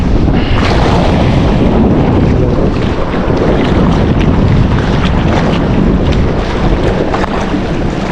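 Strong wind buffeting the microphone on a fishing boat at sea, a loud continuous roaring rumble with gusting surges and water noise underneath, no voices.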